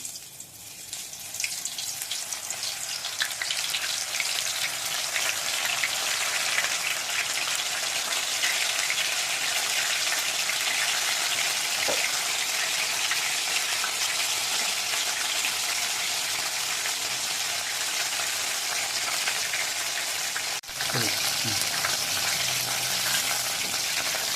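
Soya chunk kebabs frying in hot oil on a stovetop, giving a steady, loud broadband sizzle that holds throughout with no talking.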